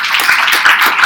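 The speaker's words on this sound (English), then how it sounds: "Give them a round of applause," A short burst of audience clapping at a poetry reading, a close, bright patter of hands lasting about a second with no speech over it.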